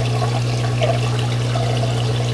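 Water streams steadily through a restrictive aquarium overflow filter, a continuous, fairly loud trickling and gurgling wash over a constant low pump hum, with no talking.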